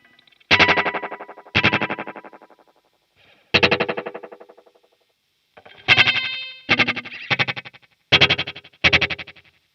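Fender Hammertone delay pedal in analog mode, with repeats that grow squished and darker: bursts of distorted electric guitar played alone, each trailing off in decaying echoes, with short gaps between phrases.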